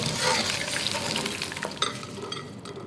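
Starch-coated shrimp meat deep-frying in hot oil, a steady close crackling sizzle with bursts of bubbling and faint stirring clinks, no voices.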